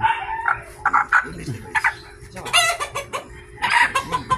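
A rooster clucking and squawking up close in short, agitated bursts, with a brief crow-like call partway through.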